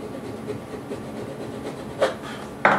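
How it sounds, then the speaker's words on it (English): A chisel cleans up wood on a guitar kit, giving soft close rubbing and paring scrapes with two sharper cuts near the end, quiet and without talk. "I'm just going to clean it up a little bit with my chisel."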